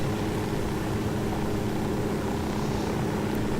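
A helicopter drones as a steady, dense rotor and engine roar, loud and constant throughout with no voices.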